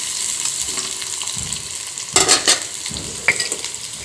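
Chopped onion sizzles and is stirred in an iron kadhai while browning for an okra curry, a constant frying crackle broken by a few louder scraping strokes of the spatula, close up and with no talk.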